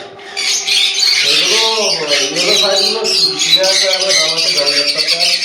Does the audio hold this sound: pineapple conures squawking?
yes